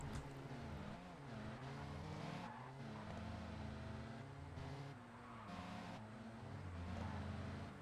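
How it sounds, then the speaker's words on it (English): Karts in the video game Satisfactory rev and skid through handbrake turns, a continuous loud engine drone with shifting pitch and tire noise running steadily throughout. "Handbrake turns, love them."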